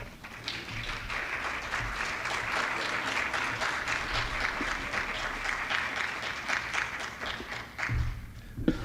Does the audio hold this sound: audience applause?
yes